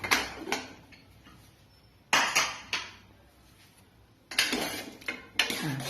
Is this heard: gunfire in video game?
no